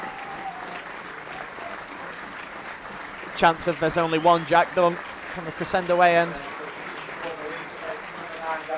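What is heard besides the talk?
football fans applauding an injured player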